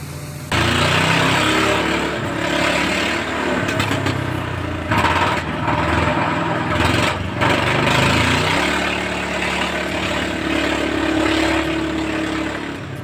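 A 150-horsepower ditch-clearing machine with a hydraulic bucket runs with a loud, continuous engine drone, rising and shifting as it works, with brief clanks and surges mid-way and a sustained tone toward the end.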